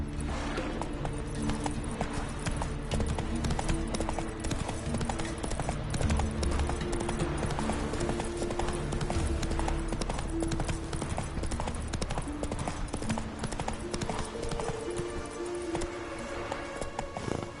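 Roach, a horse in The Witcher 3 video game, gallops on and on, its hooves clopping loud and rhythmic over a dense bed of game ambience and music, with no voices.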